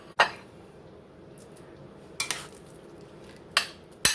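Sharp clinks of plates and cutlery as frozen meatballs in beef gravy are plated: four separate crisp knocks spaced a second or more apart against a quiet kitchen background.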